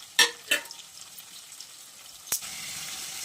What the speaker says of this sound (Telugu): అలాగే కొన్ని ఉల్లిపాయలు కూడా వేస్తున్నాను